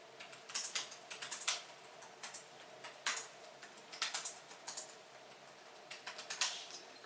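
Typing on a computer keyboard, close and fairly quiet, with irregular bursts of quick key clicks separated by short pauses.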